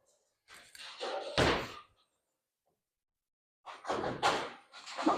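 A Storm Next Factor bowling ball rolling down the lane, heard as two separate rumbling rolls, each ending in a heavy thunk, with silence between them.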